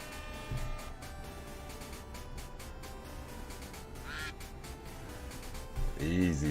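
Cartoonish ducks quack in a duck race video game, a few calls scattered over a dense, busy background mix, with a louder honking burst at the end.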